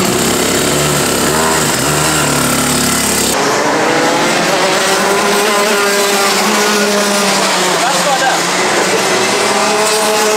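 A Senior Rotax go-kart engine screams at high revs around the Whilton Mill track, loud and close throughout, rising and falling with gear changes and corners, with a brief tire squeal and a voice talking over it.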